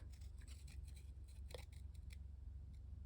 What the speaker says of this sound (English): scissors going, and you just kind of open and close them